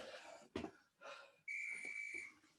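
A referee-style whistle blown to end an exercise interval in a HIIT yoga session: two short breathy toots, then a long sustained shrill blast, close and clear, with no talking.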